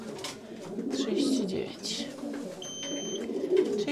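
Racing pigeons coo softly at close range in a loft, their low throaty calls repeating under a woman counting aloud.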